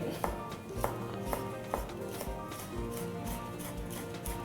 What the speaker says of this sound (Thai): หั่นให้เป็นเส้นเล็ก